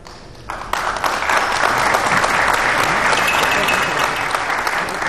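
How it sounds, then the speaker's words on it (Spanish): Loud, sustained applause from a crowd at a Bolivian police command swearing-in ceremony, beginning abruptly after a moment of quieter room sound and continuing as dense, steady clapping. "brindamos, por supuesto, este fuerte voto de aplausos"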